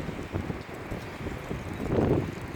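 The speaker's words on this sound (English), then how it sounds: "It's just friggin' our area is like so windy." Strong wind buffets the microphone in uneven gusts, a low rumbling roar that swells and eases and grows heaviest near the end, with no voices heard.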